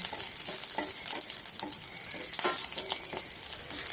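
Green chillies sizzle and crackle in hot oil in a pan while being fried for a ridge gourd chutney, with a steady frying hiss and occasional soft scrapes of stirring, close and alone.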